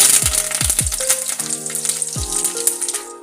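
Bay leaf pieces, whole red chillies and curry leaves sizzling loudly in hot oil for Rajasthani kadhi, a bright hiss mixed with several ringing metallic clinks and knocks from the pan.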